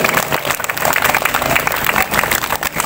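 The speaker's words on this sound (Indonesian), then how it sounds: "Kita berikan tepuk tangan dulu pada kakak-kakak kalian dari kelas 6" Children clapping at a Monday school flag ceremony, honoring the sixth-grade ceremony officers; a short, loud burst of uneven, close-by clapping from a crowd of pupils, fairly constant throughout.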